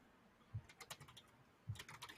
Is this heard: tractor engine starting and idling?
no